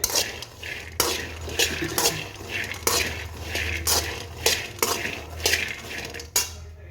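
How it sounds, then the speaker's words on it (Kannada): Peanuts roast in a pan, a spatula repeatedly scraping and tossing them, producing rhythmic rattling clatters and metallic scrapes roughly every half-second over a low steady background. "2 ಸಾರಿ ನಾನು ಇದನ್ನ ಹುರ್ಕೊತಾ ಇದ್ದೀನಿ ಶೇಂಗಾನ"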